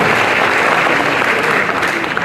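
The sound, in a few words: audience applause at award ceremony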